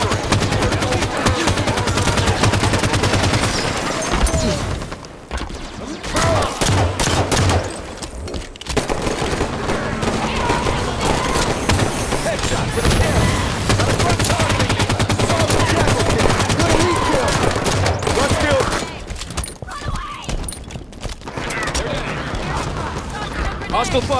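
Sustained gunfire in Halo 5 Warzone Firefight on the Temple map: rapid automatic bursts and booming shots nearly nonstop, loud and dense, with brief lulls and in-game voices calling out over the combat.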